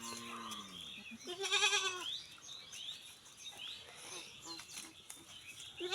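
Several thirsty goats, suffering in extreme heat, bleat in short, wavering cries around an empty water mug, one loud call after another, with softer bird chirps and faint background noise between them.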